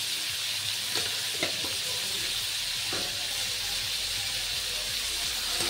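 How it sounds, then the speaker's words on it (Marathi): Bottle gourd sabzi with turmeric and salt is stirred in a hot pan, giving a steady soft sizzle with a few scraping spoon strokes, close and continuous with no talking. "आता हे सगळं मिक्स करून आपल्याला असं मिक्स करून घ्यायचं आहे"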